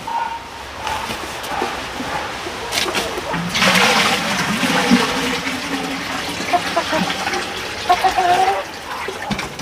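Water runs and splashes outdoors on a freezing winter day near a chicken run, a continuous gushing and trickling flow with a few brighter splashes, fairly close and steady throughout.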